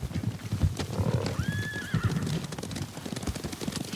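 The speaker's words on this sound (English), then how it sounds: "Horses, they're coming for us." Horses approach at a steady clip, hooves clopping on ground in a loose rhythm while one horse lets out a clear, rising neigh midway, fairly close and loud.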